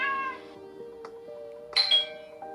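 A cartoon cat meows in the wholesome mobile tapping game Cats Are Cute, one short call mixed with bright chiming, bell-like game tones, clear and alone without any talk.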